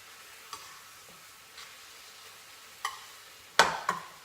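Sesame beef being stir-fried in a pan, heard as a few faint, scattered scraping stirs over a low sizzle, ending in two louder, closer strokes.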